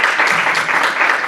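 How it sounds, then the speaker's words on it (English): Students at a winter leadership workshop applaud in a close, even burst of many hands clapping at once, sustained and fairly loud throughout. "Let's give them a round of applause."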